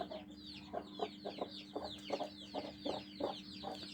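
A hen clucks in a steady run of short, repeated bursts, close and fairly loud, with a broody hen sitting on eggs in a farmyard coop and other birds chirping high in the background.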